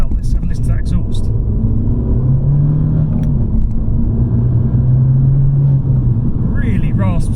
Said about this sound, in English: So, what's the Abarth 595 Competizione like out on the road? Well, let's have a listen to that exhaust.